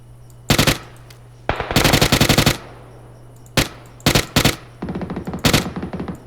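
Gunfire from a weapon in PUBG comes in sharp automatic bursts, some short and some longer rapid strings, separated by brief pauses over a faint steady hum, with no talk.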